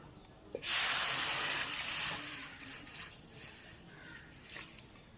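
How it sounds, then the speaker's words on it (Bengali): Water heating in a pot on a home stove to boil chow mein noodles, a sudden broad hissing, bubbling rush that starts after a brief quiet and continues steadily, fairly close, with faint clinks. "জলটা দেখো ফুটে গেছে"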